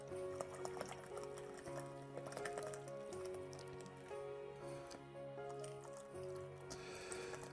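Hot water pours into a hot buttered rum drink with wet trickling and dripping squishes, set against background music with sustained tones, steady and moderately close.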